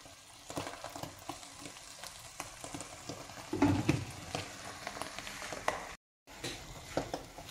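Eggplant sizzling and frying in a pan while being stirred for kare-kare, a steady crackling hiss with scraping stir strokes and a louder burst of sizzle midway, briefly cut to silence near the end.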